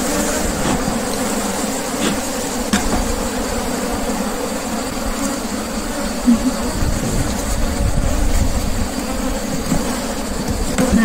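Honey bees swarm around an open wooden beehive being inspected, a dense continuous buzzing drone that stays close and loud throughout, with faint voices now and then.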